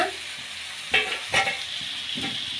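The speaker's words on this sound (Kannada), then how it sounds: "ಈಗ ಮೆಂತ್ಯ ಸೊಪ್ಪನ್ನ ಮಿಕ್ಸ್ ಮಾಡೋಣ" Fenugreek leaves and onions are stirred in a frying pan over a steady low sizzle, with a few scraping strokes of the spatula standing out, close by and with no talking.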